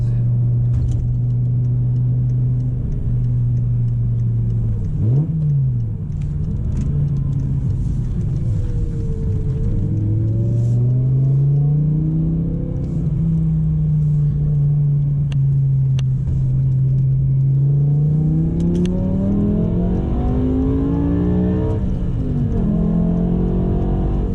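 A BMW M6 with a V10 engine and manual gearbox accelerates on a highway, its loud, steady engine drone rising and falling in pitch through gear changes over continuous road rumble, with no talking.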